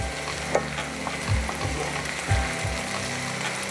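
Onions and partly frozen 85% lean ground beef fry in a pan, a constant crackling sizzle with a few scraping, ratcheting stirs of a spatula, no voices heard.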